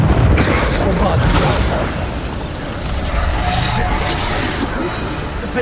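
A Bombarda explosive spell goes off in the Hogwarts Legacy video game with a loud, dense blast at the start, followed by sustained rumbling and crackling debris that stays strong and close throughout.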